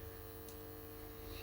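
A 12-volt battery charger hums steadily while charging a battery-powered sweeper's battery, a faint, constant mains-like drone with no voices.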